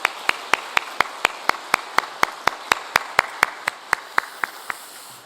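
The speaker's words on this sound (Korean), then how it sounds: "다시 한번 하나님께 영광의 박수 크게" A church congregation at a 117th anniversary service claps together in unison, about twenty evenly spaced sharp claps that slow slightly and fade toward the end.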